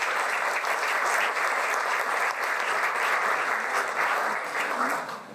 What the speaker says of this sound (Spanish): Una fuerte aplauso.